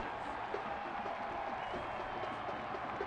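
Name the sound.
home crowd cheering after a goal at soccer match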